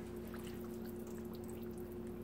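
Water pours steadily into a pot for cooking chitterlings, a soft continuous splashing with a low hum underneath.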